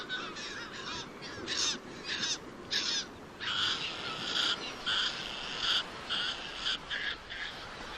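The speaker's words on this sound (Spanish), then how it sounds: "una voz desgarrada, la de un ave tan escasa hasta hace poco que por no tener no tenía ni nombre, y los científicos bautizaron como gaviota de Audouin" Audouin's gulls calling in a colony, a series of loud, harsh, raspy cries in irregular bursts, several birds overlapping over a constant rushing background.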